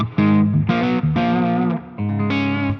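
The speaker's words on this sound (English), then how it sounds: "And you can kind of hear that echo. The reverb's really loud, so I might blend it back." Distorted electric guitar played through a Friedman IR-X and a Fractal FM3 with heavy reverb and echo: a few loud sustained chords and notes with short gaps, ringing tails between them, and no voice.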